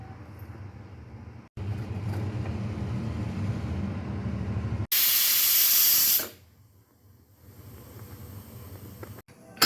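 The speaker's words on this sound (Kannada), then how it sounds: "ಕುಕ್ಕರ್ ಮುಚ್ಚಳವನ್ನು ಮುಚ್ಚಿ 1 ರಿಂದ 2 ಸೀಟಿ ಆಗುವ ತನಕ ಬೇಯಿಸಿದರೆ" A pressure cooker of drumstick pulao rumbles, then bursts into a loud, sharp rush of hissing steam for about a second before settling back to a low murmur.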